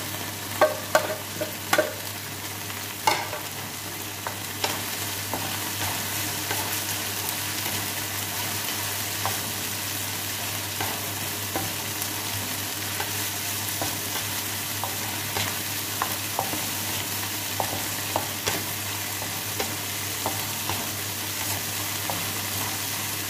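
Onion sizzles in a pan for a coconut-milk chicken and squash dish, with a constant frying hiss and a few sharp stirring knocks near the start, then softer scrapes.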